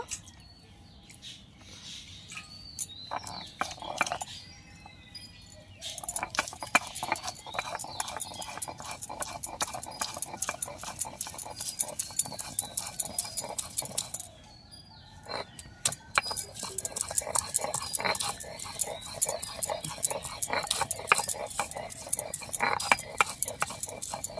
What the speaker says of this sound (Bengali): আমি আদা রসুনটা সিলে বেটে নেব